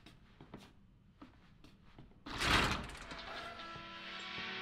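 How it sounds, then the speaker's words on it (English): A heavy door in the horror video game Resident Evil 7 opens with a loud, sudden burst of noise, then a sustained creaking rumble that lingers, after a stretch of quiet footsteps and faint clicks. "That door is so loud."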